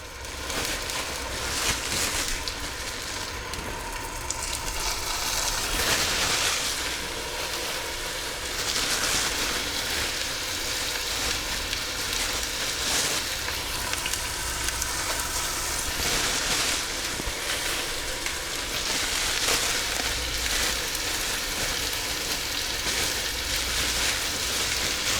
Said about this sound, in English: We're just going to cook these for about 6 or 7 minutes on either side, just to brown nicely